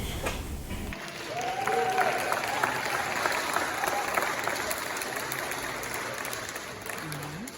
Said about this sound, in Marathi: पॅरेंट्स पण त्यांना टाळ्या वाजून कौतुक करत होते